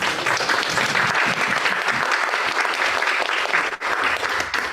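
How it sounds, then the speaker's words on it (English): An audience at a community conversation on Alzheimer's claps steadily and loudly to welcome someone speaker, with dense, sustained applause filling the room and no talking over it. "Let's give her a round of applause."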